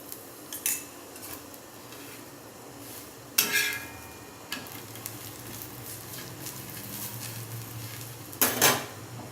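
A paratha cooks on a hot tawa, giving a low continuous sizzle broken by a few sharp metallic clatters and scrapes as the flatbread is flipped and turned.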